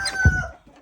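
A rooster crows once on a farm in Poland, fairly close and clear, with a brief burst of clucking from chickens around it; no voices.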